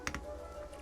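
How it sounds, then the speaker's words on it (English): Keys on a mechanical computer keyboard give a couple of quick, close clicks over a faint steady background hum, brief and fairly soft. "Do a YouTube vid of that keyboard sound."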